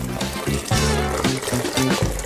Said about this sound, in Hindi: पानी भर देती हूँ